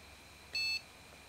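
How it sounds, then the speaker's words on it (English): A single short electronic boot beep from an NEC laptop, clear and steady, lasting about a quarter second against faint background hiss. "the beep is also slightly lower pitched."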